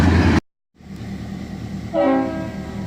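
Train with a road slug trailing rumbling past at a railway museum in Kentucky, a steady low roar after an abrupt cut, with a horn-like tonal blast joining near the end.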